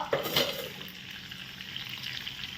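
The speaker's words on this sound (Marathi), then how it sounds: "बघा छानपैकी पापलेट फ्राय होते आमचे" Pomfret fish sizzling and frying steadily in hot oil in a home kitchen pan, with a soft clatter near the start and no talking.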